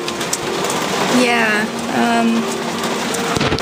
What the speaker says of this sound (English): you guys could probably hear the rain right now.